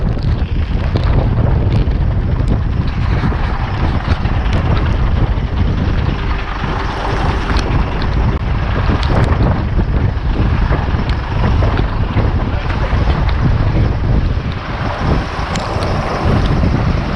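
Strong wind buffets the microphone outdoors during rain while a carnival cart and lorry are brought out, a loud continuous roaring rush with gusts and no clear speech.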